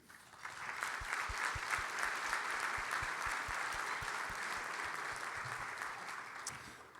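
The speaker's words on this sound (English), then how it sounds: "please give them all, for me and for you, a hearty and grateful round of applause" Sustained applause from an audience at a sports awards ceremony, a dense, even wash of many hands clapping for several seconds, with low thumps beneath and no clear talk over it.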